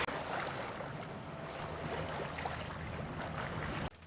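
A Sunfast 37 sailboat motoring under engine at sea off Wales near the Isle of Man, giving a steady low engine drone mixed with wind and water rush that holds throughout and cuts off sharply at the very end.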